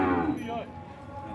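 Cattle at a busy livestock market, a single bovine moo rising and falling over about a second, fairly close, with crowd murmur and low market noise behind it.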